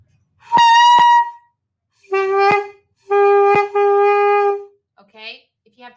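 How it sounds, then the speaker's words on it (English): A saxophone blown with the mouthpiece taken too far into the mouth gives a harsh, honking, horn-like tone in four loud, close bursts of uneven length, the last ones breaking up into faint squeaks. "if you have the mouthpiece too far in your mouth, it'll sound like this"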